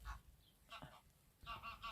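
Wild ducks or geese honk in loud bursts while flying down over snowy Norwegian ground in near-freezing cold, the calls coming in a few clustered groups.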